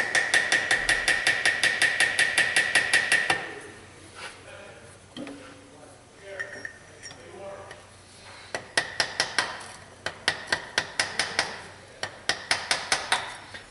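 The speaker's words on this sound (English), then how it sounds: "go grab a small hammer. See if we can't get this thing cracked loose" Sharp metallic small-hammer taps loosening a part on a Subaru EJ253 engine during head gasket replacement, quick rhythmic bursts, a fast run at the start, a pause with faint rustling, then more rapid strikes, close and loud.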